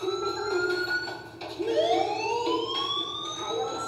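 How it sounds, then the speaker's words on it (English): In the video game Life is Strange, a wailing electronic fire alarm rises and falls in repeated sweeping tones, loud and continuous, with a brief dip midway. "Hey, do you hear that fire alarm?"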